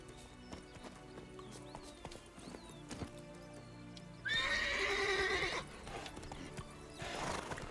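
A horse in The Witcher 3 with clip-clopping hooves under game music, then a loud close neigh lasting about a second, followed by more hoofbeats and another whinny toward the end.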